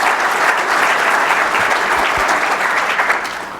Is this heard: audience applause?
yes